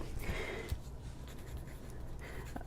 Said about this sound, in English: I'm going to write on here right now.